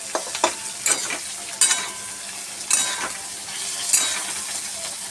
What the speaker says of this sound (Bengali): আর পেঁয়াজ, কাঁচা লঙ্কা ভালো করে ভেজে নিচ্ছি